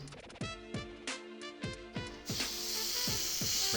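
Aerosol spray paint misted onto a miniature terrain piece: a few short bursts of hiss with soft rattles between them, then one long continuous spray, close and fairly quiet.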